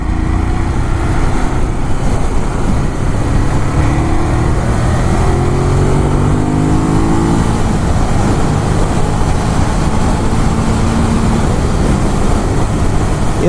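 A 2018 Ducati Monster 821 motorcycle rides along an English country road, its engine drone continuous and loud over heavy wind rumble, with gradual pitch shifts as the rider changes speed.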